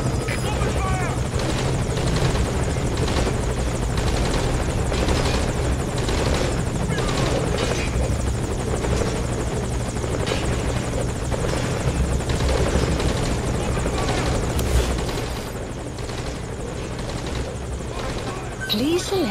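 A helicopter in the Metal Gear Solid V: Ground Zeroes video game drones steadily and loudly throughout, its rotor chop and engine hum continuous and close, with a voice speaking over it.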